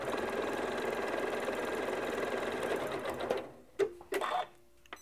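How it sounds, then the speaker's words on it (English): A Janome MC9400 sewing machine sews a utility stitch in a steady, close mechanical hum for over three seconds, then stops, followed by a few separate clicks and clunks. "I like to put my needle down into the fabric before I start sewing"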